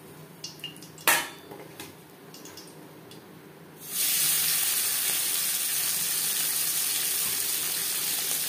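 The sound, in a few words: fried fish lifted into a dish, pans clattering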